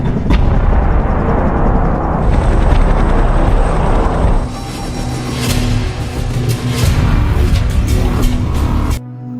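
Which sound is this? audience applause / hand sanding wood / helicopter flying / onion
helicopter flying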